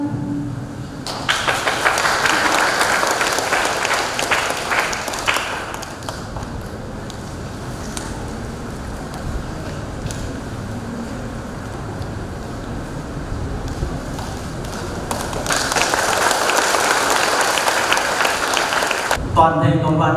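Congregation applauding the couple at a Vietnamese Catholic wedding in church: a broad swell of clapping at the start, a long stretch of quieter murmur with a voice, then a second loud round of applause near the end.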